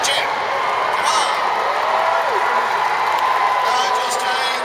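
Spectators cheer loudly at a dog agility event, a sustained roar of voices, whoops and children's shouts at close range, with a commentator talking over the din.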